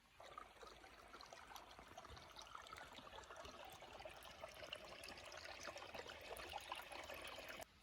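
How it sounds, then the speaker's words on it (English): A creek flows steadily nearby, with a continuous soft babbling and trickling of water and no voices. "you have the sound of the creek right next to you as you're sleeping."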